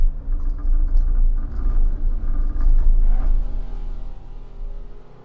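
A car engine in the Assetto Corsa racing game, a loud low rumble that swells and dips as revs rise and fall, then fades toward the end, with no talking.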